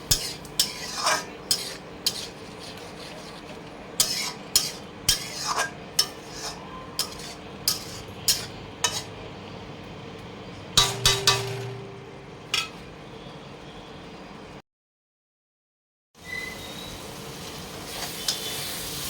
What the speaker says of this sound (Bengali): মশলা কষানো হয়ে গেছে ভালোভাবে এইরকমভাবে কষাতে হবে পুরো মশলাটাকে